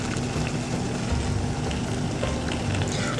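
Lamb laid into a tagine pot over an onion and tomato base sizzles steadily on medium heat, a close, continuous crackle and hiss with no talking.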